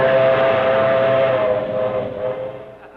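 A toy electric train gives a loud, sustained whistle that holds for a couple of seconds over a rumbling running sound, then gradually fades, with no speech.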